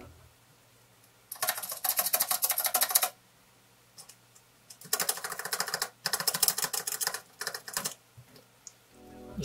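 A 3D-printed mechanical keyboard fitted with Costar stabilizers is typed on in quick bursts of dense, clicky keystrokes, close and clear, with short pauses between runs and a slight rattle.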